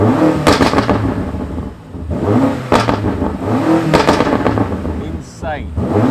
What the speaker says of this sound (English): I've started it up now. I've let it idle for a while because otherwise it won't pop and crack.